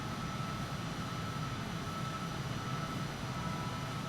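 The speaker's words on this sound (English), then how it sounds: "Engines are on full." Airliner engines at full power in a flight simulator game, departing Adelaide at sunrise: a steady, even drone of broadband engine noise, fairly quiet and unchanging throughout, with no talking.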